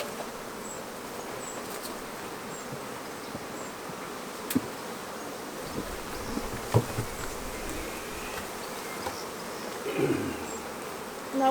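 Honey bees buzz around a hive while a strong swarm is combined with a weak colony. A continuous low hum of many insects runs throughout, with a few single bees droning closer at times.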